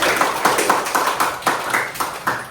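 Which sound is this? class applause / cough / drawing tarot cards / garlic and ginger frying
class applause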